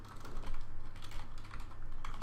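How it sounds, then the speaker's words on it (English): Fast, uneven typing on a computer keyboard while PHP code is written, with a dense patter of close key clicks throughout and no voice. "Oh dear, my typing's not good today."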